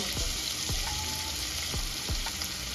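Chopped onion, tomato and garlic cloves sizzle steadily in a pan for shev bhaji, a constant frying hiss with a few soft spoon strokes scraping through at intervals, close and alone.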